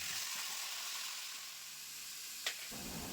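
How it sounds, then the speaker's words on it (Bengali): Vegetables sizzle and fry steadily in a pan on a clay wood-fired stove, a continuous close hiss with a brief stirring clink near the end. "তারপরে সবজিগুলোকে দিয়ে ভালো করে নেড়ে চেড়ে নিতে"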